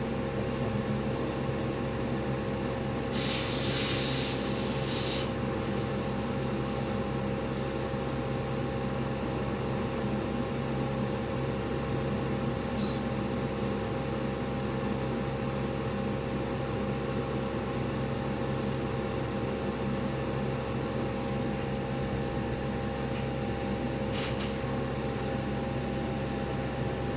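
An airbrush sprays paint onto a Shelby GT-350 scale model, a steady hiss of air running continuously with a few brief louder bursts near the start and later.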